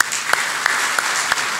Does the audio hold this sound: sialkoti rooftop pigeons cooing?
no